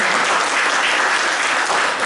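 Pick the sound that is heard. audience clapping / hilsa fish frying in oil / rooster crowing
audience clapping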